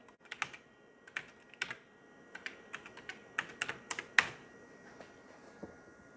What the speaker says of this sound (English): even typing the commands is slow